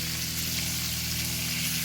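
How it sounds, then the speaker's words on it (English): Food fries steadily in a cast iron pan as a dense, even sizzle with no breaks, close and fairly loud, and no one speaking. "I'm going to get this frying up right here"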